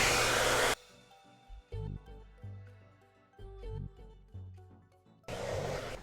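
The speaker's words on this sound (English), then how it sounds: "so we're just going to diffuse it." Blow dryer fitted with a diffuser, drying curly hair after a smoothing treatment, roars loud and steady near the start, drops away into quiet music, then comes back at full strength near the end.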